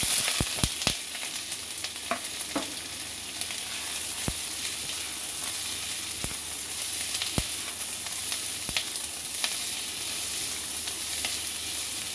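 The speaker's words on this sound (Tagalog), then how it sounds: "mag-start na tayong maggisa ng ating sibuyas" Sliced onions sautéing in a pan as the base for a carbonara sauce, giving a steady, fairly close sizzle for about twelve seconds, with sharp clicks and taps scattered throughout.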